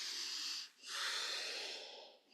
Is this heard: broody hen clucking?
no